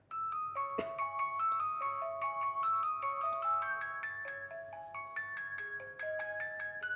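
Ringtone on a Nokia Lumia 635 phone: a bright, clean melodic tune of chiming synth notes in a steady stepping pattern, playing alone at moderate volume.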